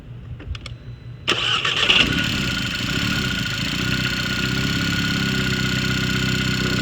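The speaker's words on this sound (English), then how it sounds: "Now we have an idle that is smooth and without fluctuation, and no more suction coming from the hole." A VW TSI petrol engine cranks and fires after a PCV valve repair, then settles into a steady, smooth idle with no fluctuation, loud and close, following a few faint clicks beforehand.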